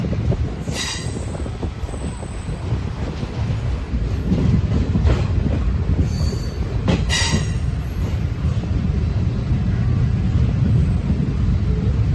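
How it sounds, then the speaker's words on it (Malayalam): A moving passenger train bound for Madurai rumbles loudly and steadily, wheels clattering on the rails with occasional sharp metallic squeals. "ട്രെയിൻ മധുരയ്ക്ക് പോകുന്ന ട്രെയിനാണ്"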